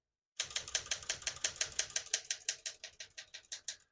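A 1969-72 Smith-Corona Galaxie Deluxe portable typewriter clacks through a steady run of about twenty crisp, close keystrokes at an even rhythm, heard alone in a quiet room.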